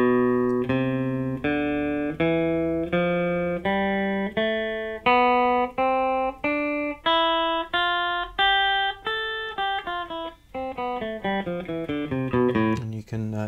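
Guitar picks out a two-octave A natural minor scale, one clear note after another in an even rising run and then coming back down, each note plucked distinctly and ringing briefly, with no talking.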